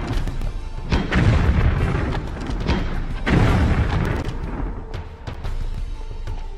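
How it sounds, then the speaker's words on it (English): Grenade launcher explosions in Tomb Raider 3 land as heavy booming blasts, two or three loud thumping detonations with rumbling tails and smaller pops between them, and no talk over them. "Got a few grenade launchers which we're going to use"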